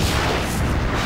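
Enemy gunfire aimed at the player in the video game Half-Life 2, a dense, loud burst of rapid shots and booms filling the moment without pause.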